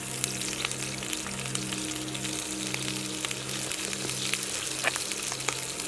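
Trout with lemon fries in a pan with a continuous, dense sizzle and crackle, close and steady throughout, with a low hum beneath and no talking.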